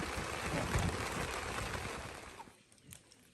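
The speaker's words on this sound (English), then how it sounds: "The sun is shining and it's raining in the Amazon." Steady rain in the Amazon in Peru hisses softly while the sun shines, then thins out to a few scattered drops near the end.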